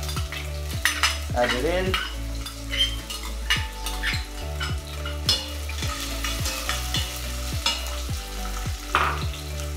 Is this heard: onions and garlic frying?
yes